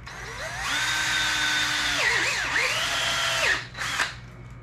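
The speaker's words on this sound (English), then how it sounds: "We're gonna drill a hole through this." A power drill bores a small hole through a 1.5-inch PVC pipe coupler, its motor whining steadily up close for a few seconds before the pitch wavers under load and then cuts off with a brief final burst.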